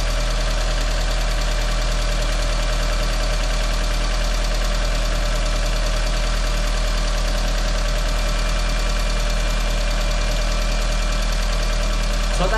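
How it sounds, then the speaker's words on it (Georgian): A restored, previously scrapped car engine idles steadily with a fast, even ticking from the valve tappets, close and loud on its own, with no talking over it. "გესმით ალბათ ტალკატელების ხმად, როგორ ტიკ-ტიკე"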